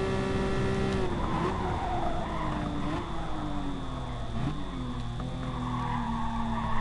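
Porsche 911 RS racing car braking hard in Gran Turismo Sport, a steady loud engine drone with falling pitch and tire skid noise swelling across the stretch, sound continuous without pauses.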